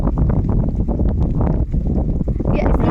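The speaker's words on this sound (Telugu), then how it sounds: "గాలి ఎదురుగాలి కదా మీద ఈయన ఎంత దోస్తాడో దానికి డబల్ దోస్తుంది ఫోర్స్ గాలి" Strong headwind gusting across a pond during sudden heavy rain, a loud, continuous low roar buffeting the microphone throughout, with someone talking over it.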